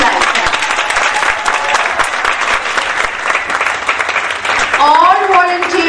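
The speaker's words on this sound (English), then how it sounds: "let's give them now the best clapping we can clap in your life" Audience at a Montessori foundation teachers training workshop claps loudly and continuously, a dense sustained applause from start to finish, with a voice speaking over the final moments.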